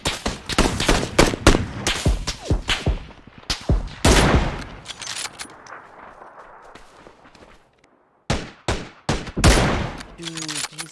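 Gunfire in the game PUBG: bursts of rapid shots and single cracks crowd the first few seconds, give way to a quieter stretch and near silence, then loud volleys return, with some speech mixed in.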